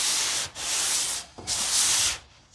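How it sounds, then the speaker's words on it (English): A sanding block rubs across the body of a 1953 Ford hot rod in diagonal strokes, with two long loud scraping passes separated by a short pause, close up and heard alone. "when you're block sanding, you want to use this diagonal stroke"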